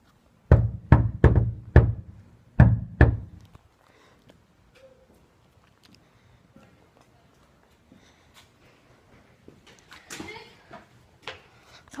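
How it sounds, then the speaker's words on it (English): Several firm knocks on a door, a quick run of four then two more, followed by near-silence with faint background noise. "To knock on the door."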